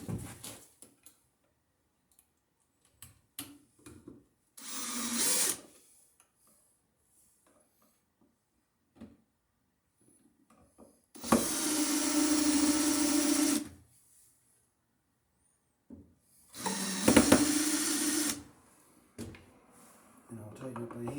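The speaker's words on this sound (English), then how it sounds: "we'll screw the outlet in" Power drill driving screws to fasten an electrical outlet into a junction box, heard as three separate loud whirring bursts of a few seconds each, with quiet gaps and faint handling noises between.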